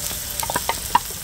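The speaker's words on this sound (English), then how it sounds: "First, I'm putting in some onions in there to start to cook up." Onions, garlic and pepper fry in oil in a pan, giving a quiet, close sizzle with a few light stirring clicks over about a second.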